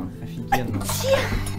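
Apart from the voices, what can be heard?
sneeze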